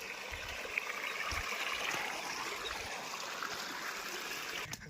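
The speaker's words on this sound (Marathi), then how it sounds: "पाण्याचा झुळझुळाट." A mountain stream gurgles near the Kokan Kada cliff at Harishchandragad fort, a steady even rush of water that stays unbroken for the whole stretch, with no voices over it.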